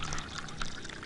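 Water poured into a drink, a short close splashing trickle lasting about a second.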